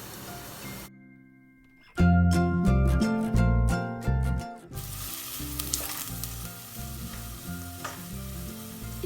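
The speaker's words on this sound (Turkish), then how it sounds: "Üzerine bir adet doğradığımız soğanı ilave ediyoruz ve" Music plays at first, then a loud steady sizzle of onions frying in butter in a pot takes over and continues without talk.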